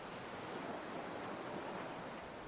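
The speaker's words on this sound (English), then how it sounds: "to hear the crashing of the waves" Ocean waves crashing onto a shore, a steady, broad wash of surf with soft wind noise, continuous and fairly distant with no voices.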